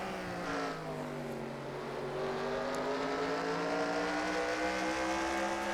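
Onboard engine of Cody Lamas' No. 48 race car in the Universal Orlando Cup series at Ireland: a steady, loud, close engine drone whose pitch climbs smoothly under acceleration, with a brief dip and recovery early on.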